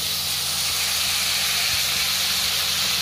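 Chopped tomatoes frying in a pan over a medium flame for upma, a steady, loud sizzling hiss that runs unbroken throughout, with faint low rumbling beneath and no voice.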